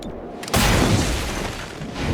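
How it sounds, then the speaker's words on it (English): A shot strikes a turret in the tactical video game Chimera Squad, a sudden loud booming impact with a crackling burst that decays into a sustained noisy rumble. "It's a nice hit on the turret, but it's still moving."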